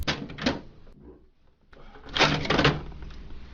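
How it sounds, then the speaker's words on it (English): Plastic top cover of a Xerox Phaser 4500 or 4510 laser printer swung open and the print cartridge pulled out during maintenance kit replacement: a few close clunks and scrapes, a brief quiet gap, then a louder burst of handling noise. "Open the top cover and remove the print cartridge."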